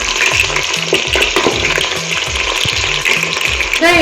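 Long-sliced onions fry loudly in hot ghee and oil for a mutton biryani, a close, dense crackling sizzle with rhythmic scraping of a spatula against the pan throughout.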